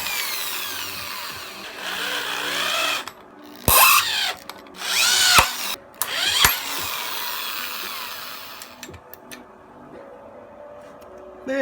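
Cordless power drill driving screws into wood while building a table, several short bursts of whirring with pauses between them, fairly close and loud, no voices.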